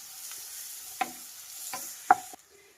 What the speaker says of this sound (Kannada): ಈರುಳ್ಳಿಗ ಚೆನ್ನಾಗಿ ಫ್ರೈ ಮಾಡಬೇಕು.